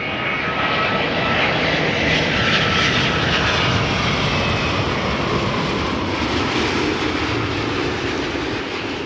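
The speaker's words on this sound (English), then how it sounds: "Delta Airlines A330 Neo arriving from Seattle, Washington, flight 144" Delta Air Lines Airbus A330neo arriving from Seattle as flight 144, a loud, continuous broadband jet engine roar that holds steady throughout, with no talk over it.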